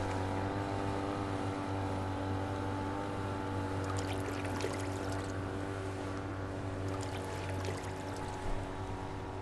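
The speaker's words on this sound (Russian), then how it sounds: "Здесь нет привычного шума машин, только рокот моторов и плеск воды" A steady low rumble of boat motors on a Venice canal runs throughout, with faint splashing water over it; no one speaks.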